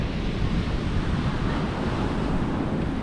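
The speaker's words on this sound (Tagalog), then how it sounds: "Lalakad kami dito sa tabing dagat." Surf washing onto a seashore, a steady broadband rush with strong low rumble and wind buffeting the microphone, loud and continuous throughout with no talking.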